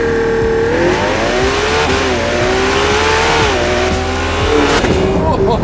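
A Ferrari 12Cilindri V12 engine roars loudly and continuously, its pitch climbing and dropping through gear changes as it accelerates hard, close by.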